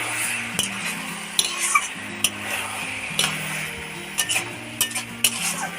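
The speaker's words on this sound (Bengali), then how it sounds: "এটাকে একটু ঘন ঘন নাড়তে থাকবেন" Ash gourd cooked with coconut and shrimp being stirred in a pan with a utensil: repeated scraping and clinking strokes over a soft sizzle, with a steady low hum underneath and no voices.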